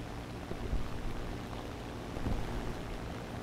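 A boat engine in the War Thunder video game drones low and steady at moderate distance, with faint wash and wind noise and slight swells in loudness.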